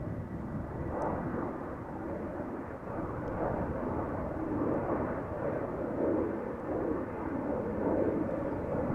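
A Boeing 737 at Amsterdam Schiphol Airport gives off a faint, distant jet roar that swells and fades gently throughout, with no voices.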